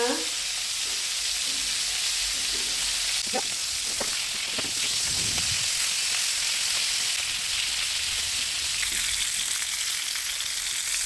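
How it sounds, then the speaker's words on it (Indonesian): Steady, dense sizzling of chicken frying in hot oil, loud and continuous throughout with a few faint clinks in the background. "Sambil menggoreng ayam,"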